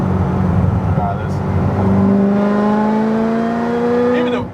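A modified 2009 Chevrolet Corvette ZR1 making over 750 wheel horsepower pulls hard through fourth gear on a street, its loud close engine note climbing steadily before easing off, with voices faintly underneath.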